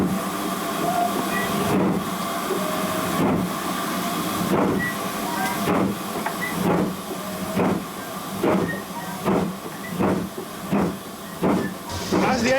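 Steam locomotive on the West Somerset Railway, heard from the footplate as its brakes release and the throttle opens: a steady loud hiss with heavy exhaust chuffs that come close together and gradually speed up.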